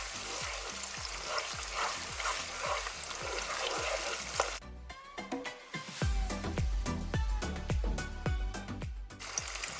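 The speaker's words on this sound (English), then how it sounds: "I'm going to add in my fresh blended shrimps into the tomato mixture. Give this a good stir." Blended shrimp being stirred into a sizzling tomato mixture in a pan, with steady frying crackle and repeated scraping strokes of the spoon that grow sharper and more rhythmic partway through.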